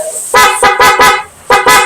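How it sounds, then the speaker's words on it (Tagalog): A loud car horn blares in several short honks, three in quick succession, a pause, then two more, close and piercing. "activated na yung loud horn"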